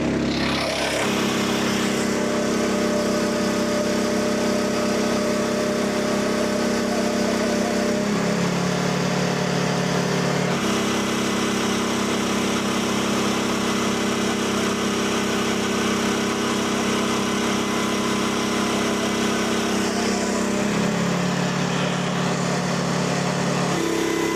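A sawmill engine running loud and steady while cutting one-inch oak boards, a constant drone whose pitch sags twice as the blade takes on load, with no talking.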